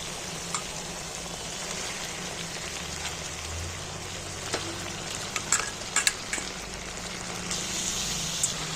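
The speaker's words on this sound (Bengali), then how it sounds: "জল ঝাড়িয়ে মাংসটা আমি এইবার তুলে দিচ্ছি এর মধ্যে" Washed chicken pieces dropped into hot spiced oil in a pan, a steady wet sizzle and crackle throughout with a few sharper spits and pops midway, with no talking.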